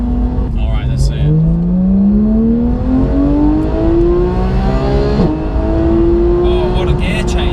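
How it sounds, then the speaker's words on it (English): A Porsche GT engine revs hard through rising, whining acceleration with a sharp gear change midway before climbing again, loud and close in the cabin as someone talks over it. "Oh, what a gear change!"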